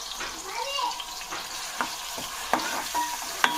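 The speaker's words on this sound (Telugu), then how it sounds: "ఈ మిక్సీ ఆడుకున్న ఉల్లిపాయ పేస్ట్ని ఆయిల్లో వేసుకొని గోల్డెన్ బ్రౌన్ వచ్చే వరకు బాగా ఫ్రై" Onion paste fries in hot oil in a pan, giving a steady, close sizzle broken by a few sharp clicks and scrapes from stirring.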